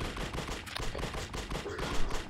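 Rapid bursts of gunfire fill a session of the video game The Suffering: Ties That Bind, loud overlapping shots and automatic fire rattling continuously with no talk.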